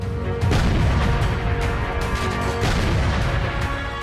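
Heavy booming blasts and rumbling crashes from explosions during a military operation against militants in Pampore, Jammu and Kashmir, roll together in a dense, loud barrage, with sharp bursts cutting through a continuous low roar.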